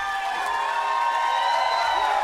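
A large crowd at an election-night event applauds and cheers steadily for Chris Hipkins at the podium, with a dense, continuous wash of clapping and whoops and no clear break.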